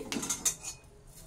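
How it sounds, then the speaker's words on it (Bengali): A wok is set back on the stove with a quick clatter of metal, a few bright clinks over about half a second that then fade, with no talk. "কড়াটাকে আমি আবার বসিয়ে দিলাম।"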